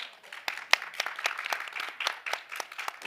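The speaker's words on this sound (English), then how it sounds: "A round of applause for Lea." Sparse, fairly quiet applause for a speaker at a climate event, with individual claps standing out distinctly amid a thin scattering of hands.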